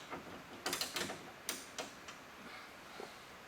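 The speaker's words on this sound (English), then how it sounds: "Loosen this bolt." Loosening a bolt on the window adjustment of a 1976 Trans Am gives a few faint, close mechanical clicks and ratcheting ticks, spaced irregularly over quiet background.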